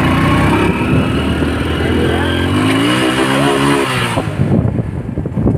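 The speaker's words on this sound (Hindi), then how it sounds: "तो गाइस इसको देखो, ये सीख रहा है बाइक।" A motorbike ridden by a learner revs and accelerates close by, its engine note rising and wavering through the clip before dropping away near the end.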